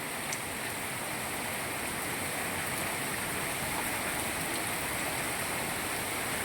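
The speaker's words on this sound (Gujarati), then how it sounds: "વર્ષો હજી વર્ષો મેઘરાજા" Steady, dense monsoon rainfall hisses evenly throughout, a continuous broadband wash of water with no pauses and no voices, in Moti Gop, Gujarat.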